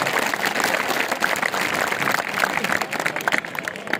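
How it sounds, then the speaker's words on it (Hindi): At a digital literacy awareness competition, an audience claps loudly for Government High Secondary School Nagrota Gujroo, a close, dense and sustained roar of many hands with no break. "आप एक बार जोरदार तालियां बजाएंगे"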